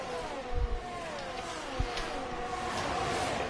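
A Formula 1 car at the San Marino Grand Prix in F1 22 accelerates out of a corner, its high-pitched engine note rising steadily under a faint background wash, with a couple of brief thumps.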